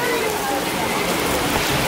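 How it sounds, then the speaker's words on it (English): Steady rain pours at Magic Kingdom in Disney World, a dense, even hiss of drops on surfaces throughout that stays constant and close. "the rain didn't let up"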